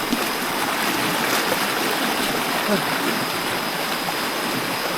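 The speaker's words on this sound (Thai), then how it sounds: "มันเป็นน้ำป่านะ สังเกตว่าน้ำขุ่นน้ำกำลังมาเลย" Muddy flash-flood water rushing down a forest stream in deep jungle, a dense, steady roar of moving water close by, with a voice speaking underneath.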